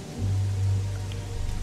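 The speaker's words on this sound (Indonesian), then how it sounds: "namun hujan malah semakin besar" Heavy rain pours down at night, a steady, dense hiss with a low rumbling roar underneath, loud and continuous throughout with no voices.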